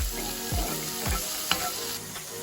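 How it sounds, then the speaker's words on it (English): Fries and vegetables frying in a skillet give a steady broadband sizzle, with a few soft stirring scrapes and one brief clink, close and moderately loud, no voices. "while the fries are cooking, I kind of leave them alone because if you toss them around too much in the skillet, they can start to fall apart"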